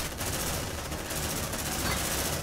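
Rapid automatic gunfire from marines and a sentry gun in Aliens: Dark Descent rattles in a dense, continuous stream, loud and close.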